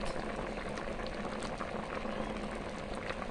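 Jamaican stew peas with pig tails and chicken foot bubbling steadily in a pot, a dense, continuous simmering boil heard up close with no talk over it.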